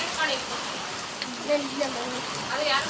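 Heavy rain pours down in a steady hiss of falling water, fairly faint and continuous, with no voices over it.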